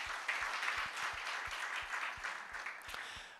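A church congregation claps steadily to glorify God, with sustained, even applause throughout and faint low thumps underneath.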